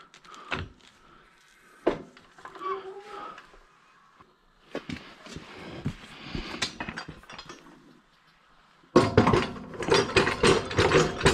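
Ratchet wrench clicking while turning stubborn bolts on a snow plow, with sparse clicks early and a dense, louder burst of rapid ratcheting near the end; faint movement noises in between.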